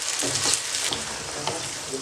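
Peas, carrots and green chillies frying in hot oil for pulao, a loud close continuous sizzle with occasional stirring scrapes, no voices.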